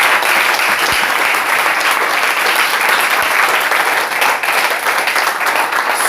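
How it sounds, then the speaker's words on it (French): A congregation at a worship service claps continuously, a thick, even wash of applause that stays loud for the whole stretch, with a couple of sharper knocks near the start. "Applaudissez encore pour vous."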